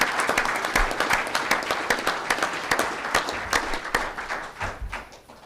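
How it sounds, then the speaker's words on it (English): Audience at a board meeting applauding a man, steady dense clapping with individual sharp claps standing out, fairly near and sustained throughout. "Let's give him another round of applause."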